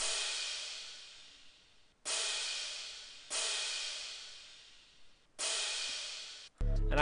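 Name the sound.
crash cymbal sample in a Glo beat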